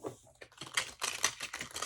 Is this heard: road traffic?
no